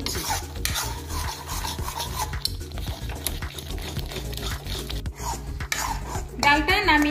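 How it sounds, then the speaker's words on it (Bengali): Cooked lentils being pressed and mashed into a paste with a ladle in a pot while making dud-gokul pitha, giving steady scraping, rubbing and clinking of metal against the pan throughout, close and fairly loud. "আমি হাতা দিয়ে চাপ দিয়ে দিয়ে ডালটা পেস্ট করে নিচ্ছি।"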